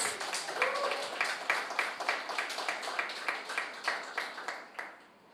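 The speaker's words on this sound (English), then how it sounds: "I think the teams deserve a round of applause" An audience applauds the teams after a public sector debate competition quarter-final. The clapping is steady and evenly rhythmic, moderately close, and fades at the end.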